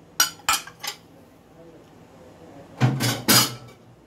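Spoon clinking against a bowl while mixing tomato, salt, black pepper and sugar, a few sharp close taps early, then two louder clusters of clatter near the end, with quiet gaps between.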